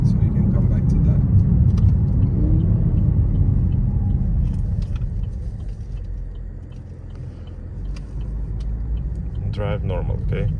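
A car drives along a road and swings through a U-turn, its engine and tyre rumble steady and close, easing slightly midway, with people talking inside the cabin over the low hum.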